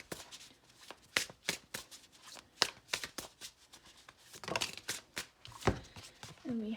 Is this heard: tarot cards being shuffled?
yes